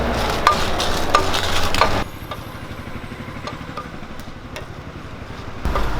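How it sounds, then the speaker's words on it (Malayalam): Dried red chillies fry in a little oil for a chutney, giving a close crackling sizzle for about two seconds. It then drops to a quieter background before rising briefly again at the end, with no talk. "അഞ്ചെട്ട് വരൽമുളക് എടുത്തിട്ടുണ്ട് അത് നമുക്കൊന്ന് വറുത്തെടുക്കാം"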